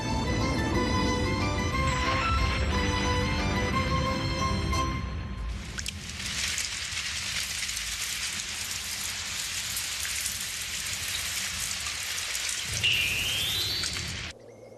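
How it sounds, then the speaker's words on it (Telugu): Cartoon rain from melting ice in a Doraemon episode: a dense, even patter of falling rain takes over from a musical passage partway through and continues steadily, fairly loud, with no talking. "ఐస్ కరిగితే ఇలా వానలా కురుస్తుంది, చూసావా?"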